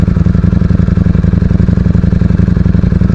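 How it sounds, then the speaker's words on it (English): Ducati Streetfighter V4 motorcycle engine running with a loud, steady mechanical clatter, a rapid even ticking rhythm over a deep engine drone, close up and with no talk. "it sounds very clattery. Like, if you ever listen now, sounds very clattery. I think it's a Ducati thing."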